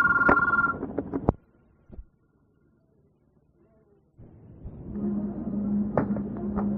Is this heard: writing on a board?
no